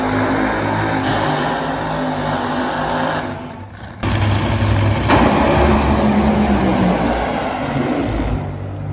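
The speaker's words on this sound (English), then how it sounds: "if you guys ever get a chance to go to a Top Fuel drag race, I highly recommend it" Top Fuel drag race cars at a drag strip, a harsh, loud blare of engines that drops briefly, then cuts back in abruptly and rises again before fading near the end.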